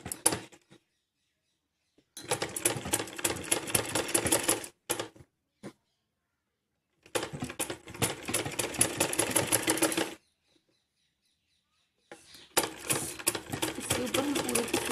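Electric sewing machine stitching a kurti, running in several steady bursts of fast rhythmic needle clatter separated by silent pauses, close and clear with no talking.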